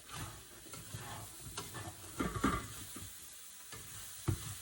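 Scallions and dill for an ancient Roman zucchini and dill dish stirred in a frying pan, with a few quiet spatula scrapes and soft clinks over a faint sizzle, close but low in level.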